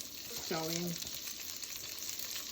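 Garlic, onion, ginger and scallion fry in a pan for shrimp fried rice, a steady close sizzle with one short tonal squeak near the start, no talking.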